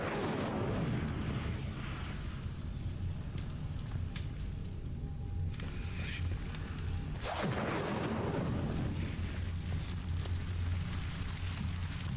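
A fire spell being cast in the video game Hogwarts Legacy on PS5 gives a steady, loud roaring burst with booming low rumble that surges near the middle and continues throughout, with no talk.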